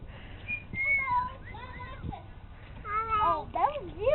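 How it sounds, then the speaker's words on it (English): Bright whistled notes, sliding up and down in short phrases, mixed with a voice and chirpy sounds nearby, beside a parrot at a zoo. "Oh, that was you whistling."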